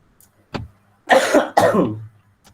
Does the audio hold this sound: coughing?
yes